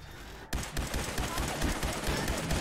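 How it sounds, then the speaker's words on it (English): Rapid gunfire rattles in dense bursts against a settlement in Fallout 4, starting abruptly after a brief quiet lead-in and continuing loud and sustained to the end. "Are you shooting at my settlement, you fucking rat?"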